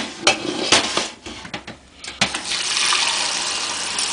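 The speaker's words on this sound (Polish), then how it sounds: "wlać do nich wody zimnej" Cold water gushes steadily into a pot of raw beef tripe after a few sharp clanks of the pot, the close pour growing into a continuous loud rush.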